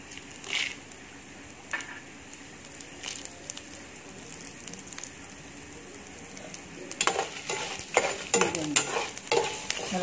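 Sesame seeds roasting in a pan, a soft dry hiss with scattered scraping and clinking stirs that grow louder and busier toward the end.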